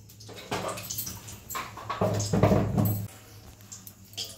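Vegetables, including eggplant, being rinsed under running water in a home kitchen, with splashing bursts and rushing flow that swell in the middle and then ease off, close and fairly loud.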